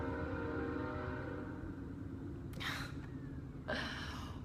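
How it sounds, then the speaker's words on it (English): A train passes near a house as a steady, broad rumble with a constant drone, while two brief, sharp louder bursts cut in near the end. "guys hear that train? That train is beautiful."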